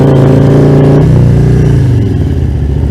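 A loud engine roars close by on Old Dixie Highway during bike week, revving high and then dropping in pitch as it sweeps past, leaving a lower fading drone.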